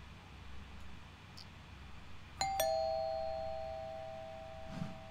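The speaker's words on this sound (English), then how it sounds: "now he's ringing the doorbell?" A doorbell in the horror game Fears to Fathom rings while an old man lets himself into the house: two sharp chime strikes close together, then a long ringing tone fading slowly over a quiet room.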